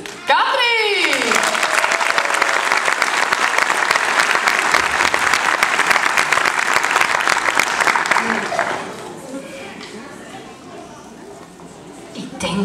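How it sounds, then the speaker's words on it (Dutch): Applause at a school Sinterklaas celebration for a kindergarten class, a loud, dense burst of crowd clapping that swells for about eight seconds and then thins into scattered claps and murmuring voices. "Ik wil graag het applaus vragen voor de klas van juf Katrien"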